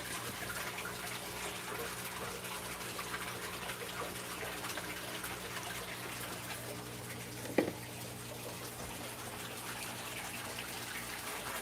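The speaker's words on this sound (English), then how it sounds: "Bringing fresh water back into the tank." Fresh water pouring back into a home aquarium tank, a steady, fairly soft gushing and splashing that continues without a break, with one small clink partway through.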